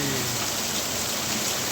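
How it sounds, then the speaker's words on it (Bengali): Heavy rain pours down during a storm, a dense steady hiss of drops striking surfaces with no break and no audible thunder. "দেখতে থাকুন প্রচুর ঝড় আর বৃষ্টি হচ্ছে"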